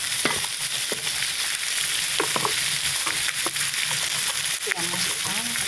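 Nasi goreng campur, mixed fried rice with carrot, peas, spring onion and a little salt, is stirred in a hot pan, making a continuous sizzle broken by scraping and clacking of the utensil, with a voice speaking now and then.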